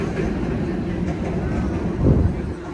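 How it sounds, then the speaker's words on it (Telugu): A train passing nearby in Sydney during New Year's celebrations, a steady low rumble and rolling noise that swells briefly louder near the end, with faint voices in the background. "సో ట్రైన్స్ పోతున్నాయి"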